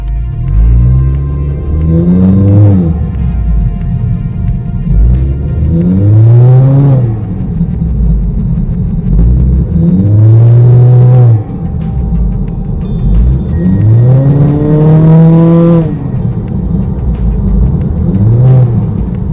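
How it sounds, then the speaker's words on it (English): A turbocharged 2018-2020 Honda Accord engine with an AEM intake revs repeatedly in neutral, rising and falling pulls, loud and close, with turbo spooling whine climbing on each rev and air release. "you guys can hear the spooling of the turbo and the release of the air"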